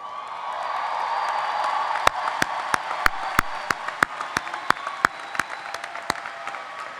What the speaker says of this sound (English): let's join me in giving them a round of applause